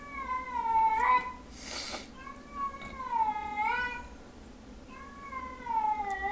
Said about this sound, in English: I know you can hear my cat.